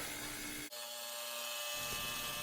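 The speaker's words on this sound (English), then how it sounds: "in this cut, you can see I'm cutting a 24 by 12 inch porcelain tile" A diamond saw blade cuts a 24 by 12 inch porcelain tile along its 12-inch side, giving a steady, loud, close whine with a brief dip partway through. No one speaks.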